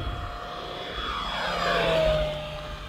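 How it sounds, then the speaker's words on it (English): An electric E-Flite RC warbird airplane, a P-51 Mustang or F4U Corsair, passes over a runway at full throttle, its motor and propeller whine rising to a loud peak and then easing away, with a pitch drop as it goes by. "Let's go full throttle over the runway."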